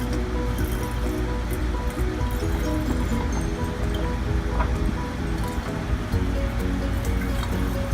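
Lemon juice is poured from a container into three pitchers for lavender lemonade: a continuous, close splashing and trickling of liquid that runs steadily throughout, with no speech.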